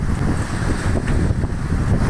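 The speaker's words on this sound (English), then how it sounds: "southeast trade wind blowing pretty strong" Strong southeast trade wind at sea in the southeast Indian Ocean, a loud continuous roar of rushing air and microphone buffeting with wave wash underneath, steady and unbroken.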